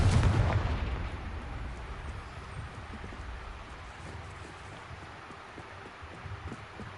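A Confringo blasting spell explodes in Hogwarts Legacy, opening with a loud, close boom that decays into a long rumbling tail and lingering debris noise.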